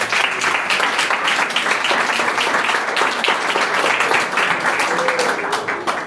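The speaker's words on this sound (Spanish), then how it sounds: "Denle un aplauso al Señor." A church congregation applauds with dense, steady clapping that fills the room for several seconds without a break.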